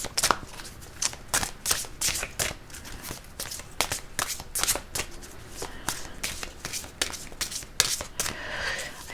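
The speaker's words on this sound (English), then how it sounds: "I want to pull an oracle card on this realm as well." Oracle cards being shuffled by hand, a steady run of close, crisp riffling bursts repeating in a quick uneven rhythm for several seconds, with soft paper rustle between strokes.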